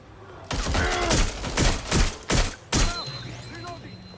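Gunfire in the video game Watch Dogs Legion: a burst of loud, close shots in uneven bursts over a few seconds, some sharp single cracks and rapid volleys, against a steady game soundscape with a low hum.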